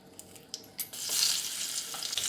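Crushed garlic cloves drop into hot oil in a kadai, and after a few light taps a bright, steady sizzle swells up close and continues alone.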